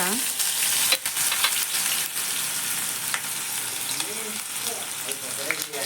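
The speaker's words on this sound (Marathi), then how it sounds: "आता ह्यात मी मोहरी टाकते आणि कांदा टाकते." Mustard seeds and chopped onion frying in hot oil, a loud, close crackling sizzle with stirring clatter and a few sharp pops, with faint voice traces late on.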